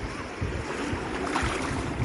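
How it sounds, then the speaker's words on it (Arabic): Rough, high sea waves washing in at Port Said beach, a steady broad roar of surf and wind noise with no clear breaks, close and fairly loud without any voices. "بس البحر النهاردة عالي يا حبايبي."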